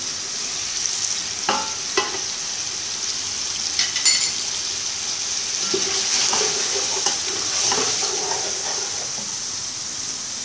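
Chicken biryani base for a Karachi-style biryani fries steadily in a pot until golden, a continuous close sizzle broken by a few sharp scrapes and clinks of stirring.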